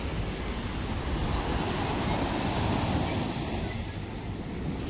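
Sea waves at Miramar beach in Goa roll in as a continuous loud wash of surf, with wind buffeting the microphone throughout, no talk.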